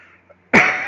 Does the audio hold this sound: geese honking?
no